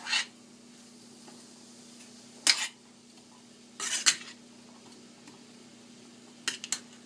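A spoon stirs drained canned chickpeas in a pot, giving four brief metallic scrapes and clinks spaced a second or so apart over a quiet, steady hum.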